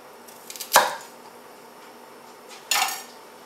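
A knife chops carrots into rounds on a board, giving two separate sharp clacks, the first with a few light taps before it and the second about two seconds later, close and fairly loud against a quiet kitchen.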